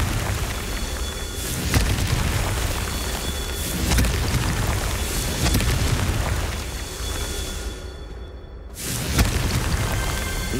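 In Hogwarts Legacy, the Confringo explosion spell sets off repeated heavy booms with crackling, rumbling debris, loud and close, swelling in several waves before a sharp cut-off and a final blast.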